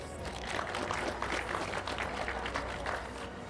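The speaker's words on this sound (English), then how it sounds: "Give them another round of applause" Audience applause at the BSE Tshipidi Mentorship Program graduation ceremony in 2022, a steady wash of many hands clapping at moderate level through the whole stretch, with faint crowd noise beneath.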